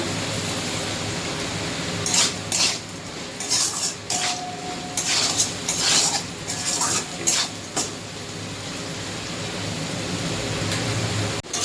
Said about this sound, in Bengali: আলু ভাজা হয়ে গেছে, এবার আলুটা তুলে নেব।